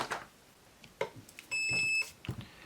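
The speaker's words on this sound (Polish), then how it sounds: "Mamy sygnał dźwiękowy, zapaliła się zielona dioda, czyli jest napięcie, wszystko działa." A Perun ETU electronic trigger unit in an airsoft replica gives a single clear electronic beep, about half a second long, when power is connected, amid faint handling clicks and taps.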